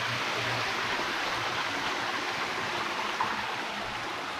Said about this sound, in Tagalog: Maliliit na agusan ng tubig.